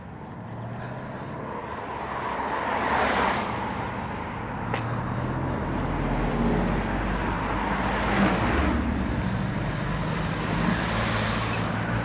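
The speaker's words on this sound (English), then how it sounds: "Quite a bit of traffic." Continuous road traffic crosses a bridge over a river in the rain, a steady rumbling roar with vehicles swelling past in waves, fairly close and without talk.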